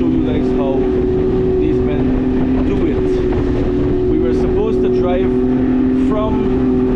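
Large deep-sea fishing boat off the Waini River mouth near the Venezuelan border, its motor droning steadily and loudly throughout with wind and water noise, while people talk over it.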